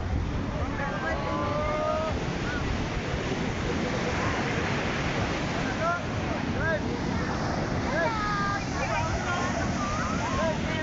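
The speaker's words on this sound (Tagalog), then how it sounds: "Parang alon." Steady broadband rush of surf and wind on the coast of Zambales fills the whole clip, with scattered bird-like chirps and faint voices above the continuous wash.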